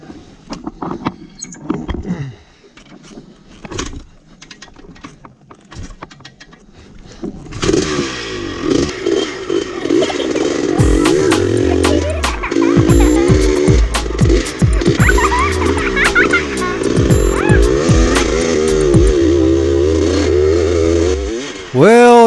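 A 1976 Yamaha YZ400 motorcycle on its race-prep test day: after scattered handling noises the engine fires up and revs repeatedly, loud and close, with a rough two-stroke crackle, while someone talks over it.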